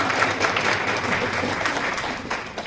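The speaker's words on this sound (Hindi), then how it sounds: "जोरदार तालियां दें" An audience at a prize-giving ceremony claps loudly and continuously, a dense wash of applause lasting nearly three seconds.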